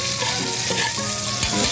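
Loud, steady sizzling of mixed vegetables dropped into a pot of oil previously used to fry tuna, with stirring and crackling throughout, close up and without voices.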